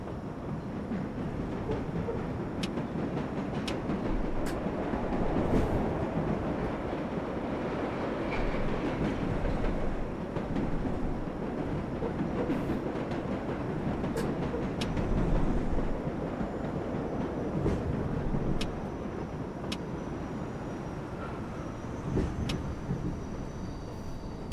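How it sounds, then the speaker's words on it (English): New York City number 7 local subway train in the World of Subways 4 video game, running with a steady rumble of wheels on track and occasional sharp clicks and clatters, continuous throughout. "this is the number 7 local train"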